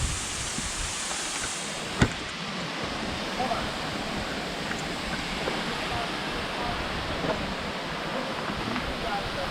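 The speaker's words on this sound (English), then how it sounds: "we made it up to the waterfall." Marymere waterfall in the Olympic National Park rainforest gives a constant hissing rush of falling water at moderate distance, with a sharp knock early on and people talking over it.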